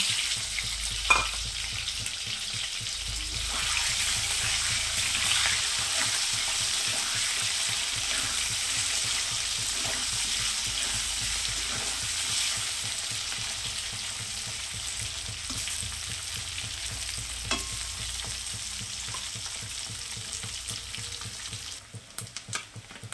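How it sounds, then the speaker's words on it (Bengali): Eggs and potatoes fry together in hot oil in a home kitchen, giving a steady, close sizzle and crackle that runs unbroken for the whole stretch with no talking. "তো তেলটা গরম হয়ে গেছে, আমি ডিমগুলো দিয়ে দিব। আর তার সাথে আলুও দিয়ে দিব।"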